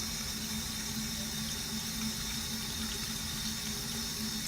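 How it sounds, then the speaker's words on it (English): Tap water runs over a hand while makeup brushes are washed at a sink, a faint, steady, unbroken splashing flow with no voices. "with the water running over my hand, I'm just going through those bristles"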